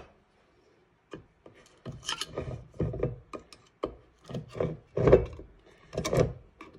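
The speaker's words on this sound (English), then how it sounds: "I'm just going to slowly keep stirring and trying to get the right consistency." A stirring knife scrapes and rubs through a small batch of flesh-toned paint, tinted with a drop of red, for restoring a composition doll. The close, irregular strokes start after a brief silence, with no talking.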